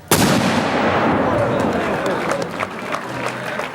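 A cannon loaded with 1 pound of powder and a 5-pound projectile fires one sharp, loud boom that rolls into a long decaying rumble, with a crowd faintly audible afterward.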